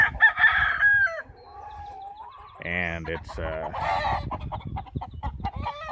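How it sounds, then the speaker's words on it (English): Game chickens: a rooster crows loudly up close at the start, then clucks and short calls follow, mixed with a person talking nearby. "I have some of my game chickens paired up,"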